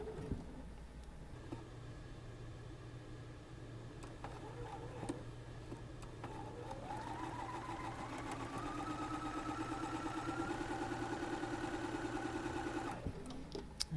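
A sewing machine stitches a scant quarter-inch quilt seam, running as a quiet, steady mechanical whir with faint ticking that speeds up and holds before stopping.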